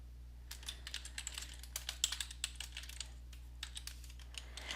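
Typing on a computer keyboard, a quick irregular patter of light key clicks in short bursts, close and fairly quiet over a low steady hum, no talking.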